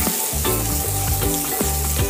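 Onions frying in a pan for a Floribbean-style vegan dish: a loud, steady sizzle with rhythmic stirring scrapes and clacks of a utensil against the pan, close and with no one speaking.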